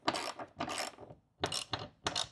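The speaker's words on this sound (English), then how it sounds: "take our wall anchor with our socket wrench" Socket wrench ratcheting a wall anchor into a wall while mounting a swan neck bracket: four quick bursts of clicking separated by short pauses, close and fairly quiet, no voices.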